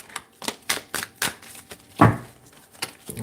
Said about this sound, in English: One shuffle this way. One shuffle this way.